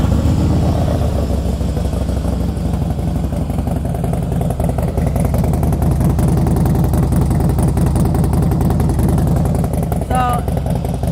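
A fuel-injected 2017 Harley-Davidson Softail Slim S idles nearby with a loud, steady, deep exhaust rumble and a throbbing pulse that runs unbroken throughout.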